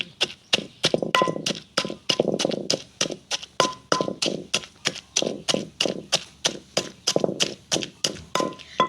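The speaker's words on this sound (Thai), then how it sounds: "ตอนนี้ก็จะโขก ตัวปูนะคะ" Steady rhythmic pounding of field crabs in a mortar, about two dull thuds per second with a crunchy, woody knock, continuing for several seconds without any talking.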